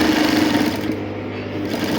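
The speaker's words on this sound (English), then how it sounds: "I'm going to go over and sew the second side as well" A sewing machine runs steadily, stitching boning into a structured sleeve with crinoline mesh, its close, even motor hum continuous throughout with no talk.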